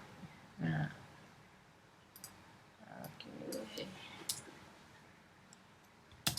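Typing on a computer keyboard, with sparse, faint key clicks scattered across a quiet room and a couple of slightly louder taps.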